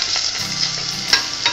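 Hakka abacus seeds being stir-fried in a pan, a steady broadband sizzle with a few sharper scraping stir strokes, close and fairly loud, with no voices.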